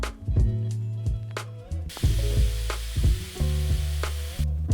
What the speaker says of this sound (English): And then we will top it off with soda water.